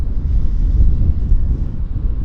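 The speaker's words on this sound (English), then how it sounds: "It is windy" Strong wind at Vancouver Airport buffets the microphone in a loud, low, gusting rumble that rises and falls unevenly, with no voices.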